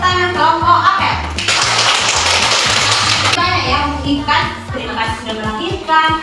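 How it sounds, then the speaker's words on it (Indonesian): Students clap for their group in a classroom, a burst of applause lasting about two seconds, with a teacher and children talking before and after. "Beri tepuk tangan kelompok apel"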